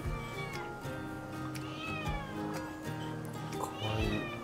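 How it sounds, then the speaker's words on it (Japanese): A cat on the island of Himakajima meows repeatedly, faint and somewhat distant, with its calls mixed among a busy background of other sounds. "にゃーん、にゃーんいるやん。"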